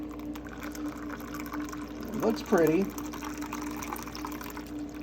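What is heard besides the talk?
pouring a drink with fresh jalapeno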